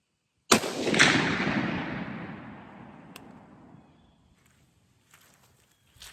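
A single unsuppressed .223 AR rifle shot fired from a tripod: a sharp, loud crack with a long rolling echo that fades over about three seconds, followed by near silence and faint small noises.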